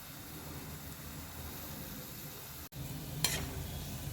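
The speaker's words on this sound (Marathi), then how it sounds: "अशा पद्धतीने 5 ते 6 आपण यात टाकून घेऊया आणि छान आपण ते तळून घेणार आहोत." Sweet potato gulab jamun, five or six at a time, frying on a low flame: a steady soft hiss of oil throughout, broken by a brief gap and a faint utensil scrape near the end, no talk.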